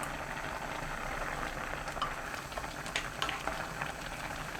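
A pot of soup with scallion and perilla powder simmers with a steady bubbling hiss and occasional soft pops, close and continuous at moderate volume.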